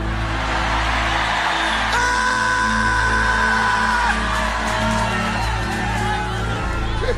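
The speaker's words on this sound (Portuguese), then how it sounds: "Alguém poderia dar um grito daquele tamanho para assustar?" A church congregation lets out a loud, sustained shout during a sermon, a dense wall of massed voices with a rising yell that holds for several seconds in a reverberant hall.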